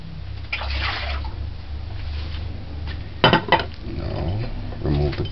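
Salt codfish is rinsed in a pot of water, with sloshing and splashing, a few clanks of the pot and utensils, and a burst of louder handling midway, close up.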